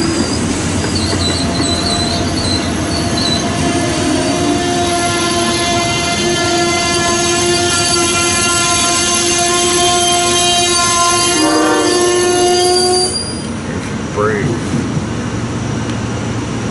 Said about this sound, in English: Again, this is the westbound Amtrak, Pennsylvania here at CP Lewis, Lewistown, PA.